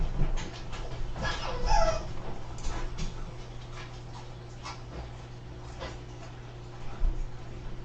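Dogs whimper, yip and pant while playing indoors, short close whines and scuffles over a steady low hum, with a voice speaking briefly.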